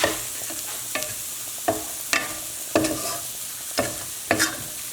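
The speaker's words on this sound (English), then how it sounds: "you want to also make sure your rice is fluffy. So we're going to fluff that up a little bit." A spoon scrapes and fluffs cooked jasmine rice in a pot, making about eight separate soft scraping strokes at a steady rhythm, close and fairly loud, with no talking.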